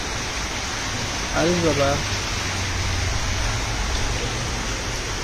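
Gentle, steady rain falling in Netrokona, a soft even hiss close by, with a voice speaking briefly over it.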